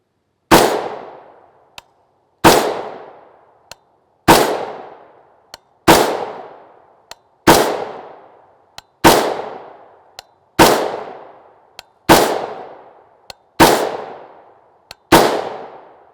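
Rifle firing 5.56x45mm 55gr FMJ Armscor ammunition, ten sharp loud shots at a slow steady pace about every one and a half seconds, each followed by a short decaying echo and a faint clink, with no talk.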